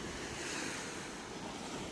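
Sea waves roar steadily against the shore near Bhavnagar, a dense, even wash of surf mixed with wind buffeting the microphone, faint and continuous without any talking.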